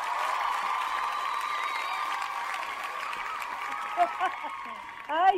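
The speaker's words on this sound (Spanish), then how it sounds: "Le damos la bienvenida con este fuerte aplauso" A studio audience on a Spanish-language entertainment show applauds and cheers to welcome a guest. Steady, moderately loud clapping runs under a held tonal sound, and voices come in near the end.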